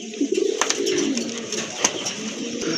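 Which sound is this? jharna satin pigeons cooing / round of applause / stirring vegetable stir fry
jharna satin pigeons cooing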